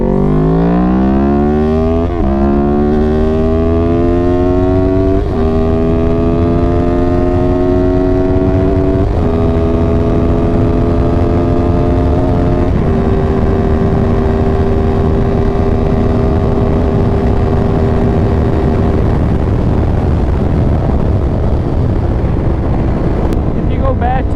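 A tuned vehicle with TST V2 stacks and a 2WDW tune accelerates hard, its loud engine note climbing through several stepped shifts before levelling off at a sustained drone, with heavy wind rush throughout.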